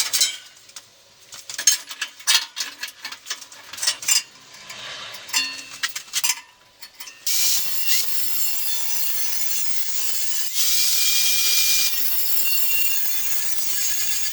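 A diamond cutoff wheel bites into metal during workbench fabrication, sharp clinks and taps giving way to a continuous bright, hissing grind that gets louder partway through and holds steady, close by.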